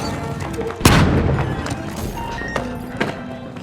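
A flashbang grenade bursts with a single sharp, loud bang in The Finals, followed by a few fainter impacts and game effects while a voice speaks nearby.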